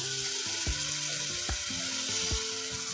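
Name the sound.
soaked rice added to spinach khichdi tempering, sizzling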